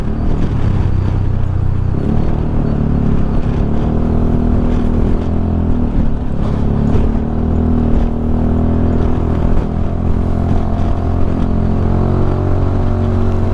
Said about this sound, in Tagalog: grabe sobrang traffic